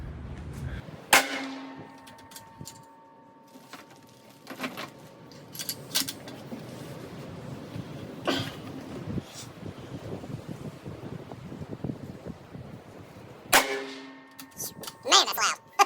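A Savage FCP rifle fitted with a muzzle brake fires twice outdoors, about twelve seconds apart. Each loud, sharp report ends in a short metallic ring, with wind buffeting the microphone between the shots.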